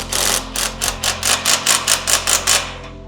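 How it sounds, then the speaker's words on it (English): A power drill drives a screw while building a ninja obstacle, running in about eleven quick, evenly spaced bursts over a steady low motor hum. It sounds close and fairly loud, with no talking. "Let me just drill this in."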